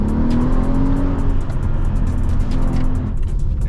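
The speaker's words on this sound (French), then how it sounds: "quand vous mettez juste un peu de pédale, vous sentez le V8 biturbo" A loud, deep Mercedes CLS 500 V8 biturbo engine growls and rises in pitch as it accelerates, rumbling steadily close up, with no talking.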